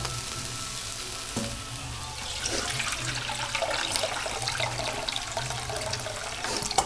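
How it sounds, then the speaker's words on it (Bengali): Water poured into a pan of soybean curry with potatoes and spices sets off a loud, close sizzle that swells into a rushing, bubbling hiss and keeps going steadily. "এবার আমি দিয়ে দেব পরিমাণ মতো জল।"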